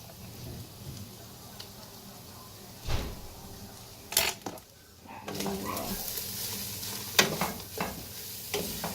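Chicken with spices, including cayenne pepper, is stirred in a frying pan while it sizzles softly. Scraping strokes and a few clatters and knocks come through at close range over a low hiss, with faint talk in the background.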